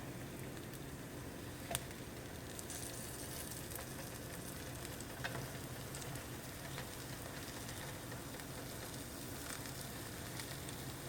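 Small pancakes frying in a pan at a university international food presentation give off a faint, steady sizzle that runs throughout, with a couple of small clicks and no voices.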